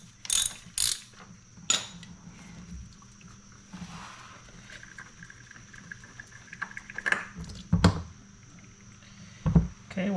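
A ratchet socket wrench loosens the oil filter on a Yamaha Tenere 700 motorcycle, giving several separate bursts of quick metallic clicking spread through a quiet spell, close and fairly loud.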